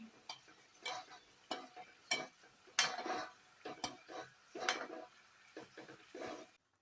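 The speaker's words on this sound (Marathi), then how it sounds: "मोदक तळले गेले असं छान त्याला ब्राऊन शेड आली पाहिजे आणि एकसारखं त्याच्यावरती असं तेल टाकायचं म्हणजे ते सारखे तळले जातात" Modak made from maida fry in hot oil with a soft, quiet sizzle, while oil is spooned over them in a series of light scraping, clinking strokes of a spoon against the pan.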